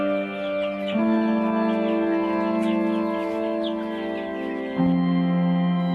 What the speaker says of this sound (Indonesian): beliau tak lupa menyempatkan waktu untuk memberi makan ayam-ayam kesayangannya